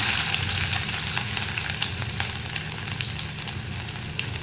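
Cumin, ginger and garlic frying in hot oil give off a dense, steady, loud sizzle that holds evenly throughout, with faint occasional clinks and no voices.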